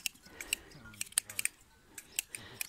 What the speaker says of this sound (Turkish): bu şey koyun kırkılması